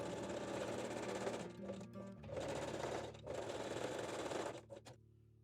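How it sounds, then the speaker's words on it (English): A sewing machine zigzag-stitches rings in place on thong straps, its motor whirring steadily in two long runs separated by a brief pause, then slowing to a stop. "sew the rings in a place with small zigzag stitch"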